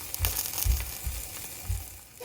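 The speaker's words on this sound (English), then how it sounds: "Alright, so we got the nice sizzle going on here" SPAM figgy pudding sizzles in a hot pan, a steady soft frying hiss broken by a few low thumps and crackles, close and moderately quiet.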